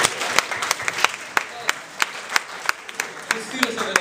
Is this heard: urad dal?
no